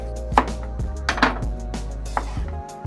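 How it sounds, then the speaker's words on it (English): A knife slices a peeled carrot into rounds on a cutting board, giving several distinct, irregular close knocks with a light ringing resonance between the cuts. "Carrot will peel and then cut into slices."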